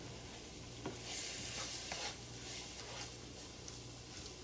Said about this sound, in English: So we're going to put it in with the butter and the veggies. Stir it up for 2 minutes.